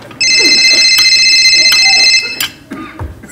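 An electronic telephone rings loudly with a steady repeating trill for about two seconds, then stops, leaving faint room noise and brief movement sounds in a comedy sketch setting.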